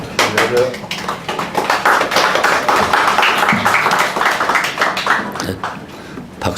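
A church congregation at a Sunday service at Daehakro Church in Seoul claps for a visiting East Timor missionary. The dense, steady clapping runs loud throughout, with a voice speaking over it.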